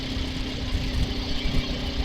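A Suzuki TL1000R motorcycle engine runs in first gear, a low, rough, throbbing rumble that holds steady for about two seconds with slight uneven pulsing, close and fairly loud, with no talk.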